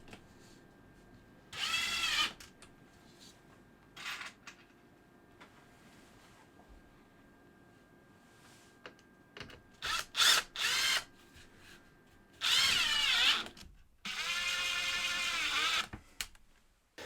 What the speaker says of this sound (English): bit of glue around the outside, and then I'm going to get it screwed into place